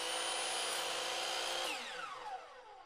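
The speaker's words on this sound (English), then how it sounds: "starting on cutting all of the trim" A power tool cuts wooden trim during a dining room makeover, a steady high whine running close and loud, then winding down in pitch as the motor slows.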